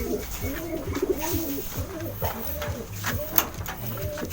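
Racing pigeons, including an older red bird kept for breeding, coo close by in a loft, a series of low, rolling, warbling calls repeating steadily over a few seconds.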